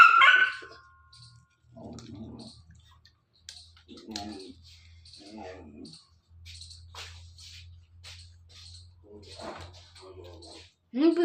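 A dog barks in short, separate bursts around a household while people talk at length over and between the barks.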